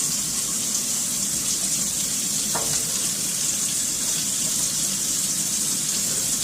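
Running water pours steadily while a dog is rinsed during a bath, a constant close splashing gush with no talk.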